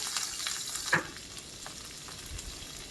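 Onions and curry leaves fry in a pan with a soft, continuous sizzle, broken by a brief clink of a stir near the start.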